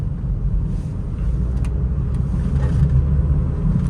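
A Honda City car drives along a road with a steady, close low engine rumble and road noise that swells slightly as it accelerates; no one speaks.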